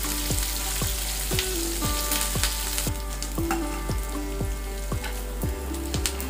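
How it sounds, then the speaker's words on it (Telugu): Chopped onions and curry leaves fry in hot oil in a pan for a curry, a dense continuous sizzle with repeated scraping strokes of a spoon stirring at a steady rhythm, close and loud. "ముందుగా కట్ చేసి పెట్టుకున్న ఉల్లిపాయ ముక్కలు, కరివేపాకును వేసి దోరగా వేయించుకోవాలి"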